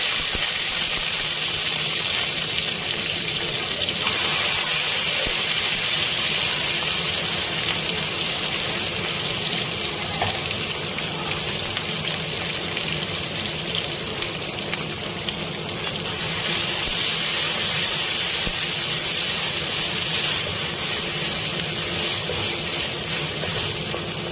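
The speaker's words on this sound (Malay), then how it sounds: "tumiskan dulu rempah ini" Spices and pounded ingredients frying in a pan for nasi ayam, a dense, steady hiss of sizzling oil that runs continuously at a fairly loud level without pause or voices.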